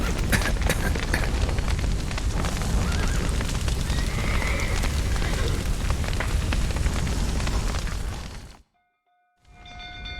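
Horses neigh amid a dense, roaring din of hooves and commotion in The Witcher 3 video game, a loud, continuous wash of sound that cuts out abruptly near the end before quieter noise returns.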